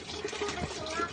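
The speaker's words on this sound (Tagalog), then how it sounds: "habang niniintay natin mapuno yung tubig niya, tatry natin kung wala na siyang tulo" Water pours steadily into a jug that is being repaired for leaks, making a continuous rushing, hissing fill sound.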